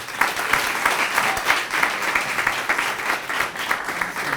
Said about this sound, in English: Will you please give a round of applause for David Fairman.